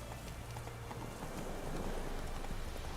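Horse hooves galloping at a steady pace across ground in The Witcher 3: Wild Hunt, a continuous, even clatter of beats with no talk.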